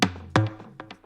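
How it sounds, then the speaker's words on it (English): A drum fill within a hip-hop beat for a beat battle: two heavy bass-laden hits followed by lighter snappy percussive strikes, close and punchy, in just over a second with no talk. "And I also combined some different fills"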